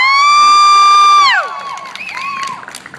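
A long held, tonal note cuts off with a falling slide, then a crowd breaks into cheering, whoops and scattered shouts for a performer who has just finished a cover. The cheering is loud and close and carries on to the end.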